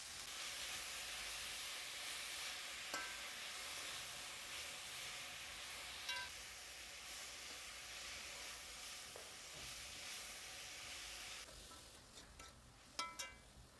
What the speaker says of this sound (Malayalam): ഇട്ട് നന്നായിട്ട് വഴറ്റുക.